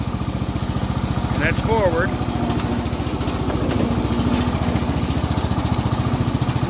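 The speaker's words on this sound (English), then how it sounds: "as soon as I hit the starter, I got to shove the choke in real quick, otherwise it won't start" A Cub Cadet riding lawn tractor engine runs steadily close by with a dense, rapid low putter throughout, while someone talks over it.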